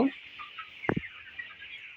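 Broiler chickens, twenty-three days old, cluck softly and intermittently from nearby on a farm, with one sharper squawk amid a quiet background of birdy chatter.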